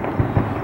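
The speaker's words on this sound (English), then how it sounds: "Sometimes they shoot fireworks off over the stadium." Fireworks go off over a stadium: two dull, muffled booms about a fifth of a second apart, heard from a distance over steady background noise.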